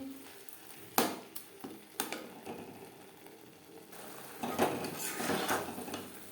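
Carrots and melting sugar are stirred in a pan over a medium-high flame for carrot laddu, making close, intermittent metal scrapes and clinks over a low frying hiss.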